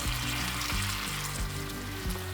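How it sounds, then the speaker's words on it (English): Green beans and chilies sizzle steadily in a hot pan on an Everhot range, with a few soft scrapes and stirring bumps breaking through the continuous frying hiss, close and fairly loud. "just add the beans. Give it all a good stir."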